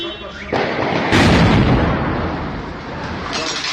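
A loud, booming blast from a suicide bomb explosion in Hatay erupts suddenly, followed by a sustained roar and rumble that slowly fades, with background noise continuing throughout.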